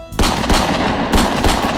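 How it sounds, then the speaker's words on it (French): Gunshots at night, several sharp loud bangs in quick succession with a brief gap between bursts, close and echoing, no talking. "Pendant une des nuits, on a entendu des coups de feu."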